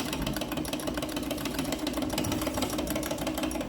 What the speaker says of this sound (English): I'm doing it on my Treadle sewing machine